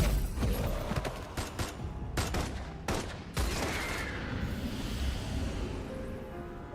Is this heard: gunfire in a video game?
yes